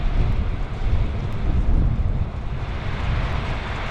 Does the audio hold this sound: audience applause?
no